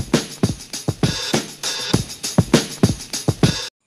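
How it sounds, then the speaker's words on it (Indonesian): A drum is struck in a quick, uneven pattern of about a dozen punchy hits with booming low thumps, loud and close, stopping abruptly. "Drum ini cara memainkannya dipukul."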